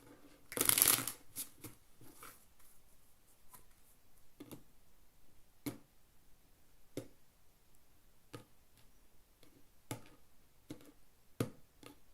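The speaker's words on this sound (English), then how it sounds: "Shuffle." A deck of playing cards shuffled for poker: one loud riffle burst near the start, followed by scattered soft taps and clicks of cards being squared and handled, fairly close, with no talking.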